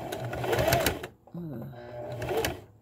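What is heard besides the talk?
sewing machine backstitching to close a pillow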